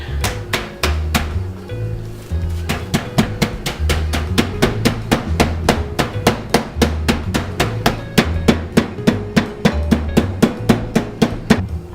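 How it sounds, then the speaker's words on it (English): Repeated sharp pounding strikes in a steady, fast rhythm, a meat mallet beating chicken breast under plastic wrap on a hard surface, loud and close, with no talking. "take your Thor hammer and beat your meat."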